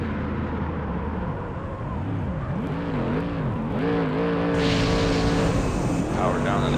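Race cars roaring in a racing video game featuring a Ford against a Chevy, engine tones rising and falling with revs and gear shifts, loud and continuous, with a commentator talking over the engines.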